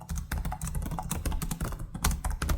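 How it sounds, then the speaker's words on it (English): Typing on an Acer Nitro 14 gaming laptop keyboard with thumpy keys, a rapid, uneven stream of close, crisp keystrokes with no speech. "Acer Nitro laptops have had pretty thumpy keys in general."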